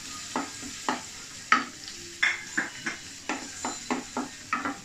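Bay leaves, pulao leaves, nuts and raisins frying in a pan, stirred with a spatula that scrapes in a quick steady rhythm of about a dozen clinking strokes over a soft sizzle, close and without talk.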